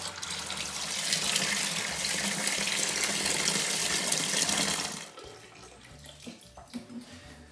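Wine must from a New Zealand Sauvignon Blanc wine kit box gushes out in a loud, steady pour for about five seconds, then stops abruptly, leaving faint trickles and clinks.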